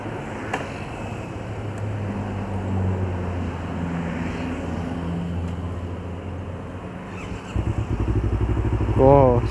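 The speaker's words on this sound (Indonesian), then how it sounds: "sekarang saya akan coba riding dengan Yamaha MT25 2016 ini" A 2016 Yamaha MT-25 motorcycle with a steady engine drone that idles and rumbles under wind and road noise. Near the end a rising, revving burst comes in close and loud.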